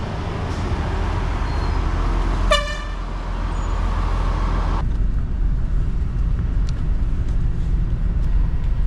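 Traffic rumbles steadily on a road in Santo Domingo, Dominican Republic, with a short burst of a vehicle horn partway through, all loud and continuous with no talk.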